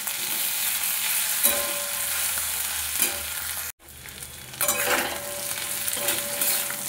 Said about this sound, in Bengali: আদা কাঁচা লঙ্কাটা একটু ভাজা ভাজা হয়ে গেছে, একটু নেড়ে চেড়ে